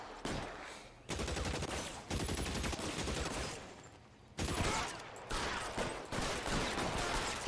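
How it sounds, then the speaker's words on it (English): Enemy gunfire in the game L.A. Noire, loud sustained volleys of rapid shots in several bursts separated by brief gaps, with faint voices in the background. "Oh shit, they're shooting us."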